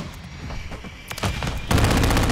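Rapid automatic gunfire in Call of Duty Modern Warfare 3 multiplayer, scattered shots building into a dense, loud close burst of fire near the end, with no talking.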